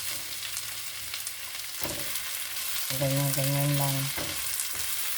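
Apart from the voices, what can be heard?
sautéing garlic and onion in a pan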